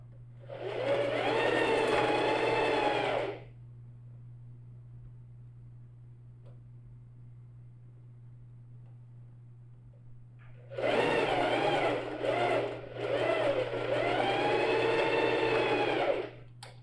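A sewing machine stitches a backpack seam at a 1 cm margin in two steady, close whirring runs, separated by a long quiet pause with only a low hum.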